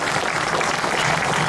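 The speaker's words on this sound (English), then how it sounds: "I know you have been clapping all day and applauding, but I think this man deserves a warmer response than that" Crowd applause for motorcycle rider Josh Brooks at a meet-the-riders event in Coleraine, a steady, dense wash of clapping from many hands, loud and continuous without pause.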